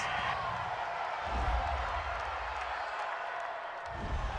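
A stadium crowd at an NFL game between the Carolina Panthers and Washington Redskins roars and grumbles after a roughing-the-passer penalty. The broad, sustained wash of noise carries swells of disapproval throughout.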